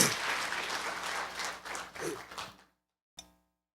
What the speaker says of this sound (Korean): 우리 큰믿음 유신교회 우리 찬양대를 위해서 큰 박수 한번 해주십시오